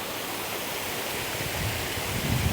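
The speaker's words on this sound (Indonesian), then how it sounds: "Nah ini dia ngalir ke sungai-sungai ini teman-teman" Water rushes steadily into a river on Pulau Jemaja, a broad, even wash of flowing noise with slightly heavier churning toward the end, close and continuous with no voices.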